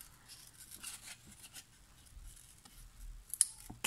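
Scissors snip through paper scraps for a handmade card up close in a series of quiet, irregular cuts, with light rustling between the snips.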